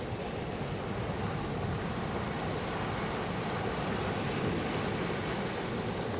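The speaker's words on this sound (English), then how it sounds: "Not quite North Shore waves, but still pretty nice waves." Ocean surf at Malaga Cove rolls and breaks steadily in a continuous broadband roar with wind buffeting the microphone, no distinct individual crashes standing out and no voices.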